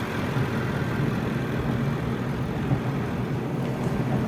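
A 2016 Range Rover Sport Autobiography idles in a steady, low rumble, an even engine drone that holds at a constant level throughout with no revving.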